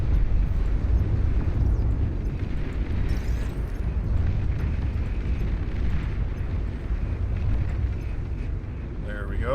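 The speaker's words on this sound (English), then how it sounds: "Enemy commander destroyed" A commander unit blows up in a strategy video game, a loud, sustained low rumbling roar that fills the whole stretch without a break.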